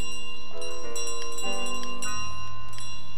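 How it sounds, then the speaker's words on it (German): The bell in Untitled Goose Game chimes repeatedly over the game's piano score, bright metallic strikes recurring through the stretch with a steady ringing tone underneath. "Ich hasse diese Glocke."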